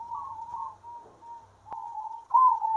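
Perkutut (zebra dove) breeding birds give soft, near, repeated cooing calls in a gentle rhythm, with a brief tap midway and a louder coo at the end.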